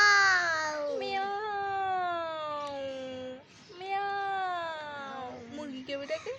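A voice imitates a cat, giving two drawn-out, wavering meows of a few seconds each, close and clear, with a brief pause between them and a little babble at the end.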